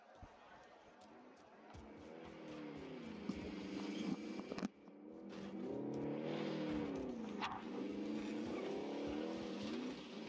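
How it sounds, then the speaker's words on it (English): A light vehicle drives in Call of Duty Warzone, its engine humming and revving steadily with rising and falling pitch, with a brief thump partway through as voices talk. "Light vehicle here. I'll drive."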